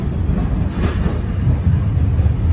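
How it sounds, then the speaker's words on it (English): A Toronto TTC subway train running along the tracks, a loud, continuous low rumble and roar with steady rail noise throughout. "most of the times the train crosses over to the other side of the tracks"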